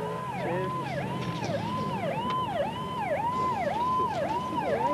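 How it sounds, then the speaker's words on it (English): An ambulance siren wails steadily in a repeating rising-and-falling cycle, loud and close over low traffic rumble, with no talking. "It's an ambulance coming."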